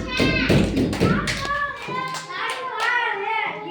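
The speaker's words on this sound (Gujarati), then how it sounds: "હાલો તાળી પાડો બધા" Children at a preschool clap their hands together in loose bursts, while an adult and kids talk over the clapping.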